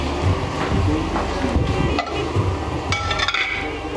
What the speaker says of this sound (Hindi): थोड़ा सा अदरक लहसुन भूना, उसमें प्याज डाली, टमाटर डाला, हरी मिर्च डाली